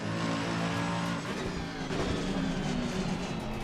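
A race car's engine drones and pulls hard through a corner, a steady close whine shifting pitch midway as the car accelerates, with no talk.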